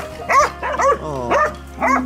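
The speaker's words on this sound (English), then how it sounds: "Dogs are barking." Several dogs barking near a person arriving home, four loud harmonic barks spaced roughly half a second apart with a low steady hum underneath.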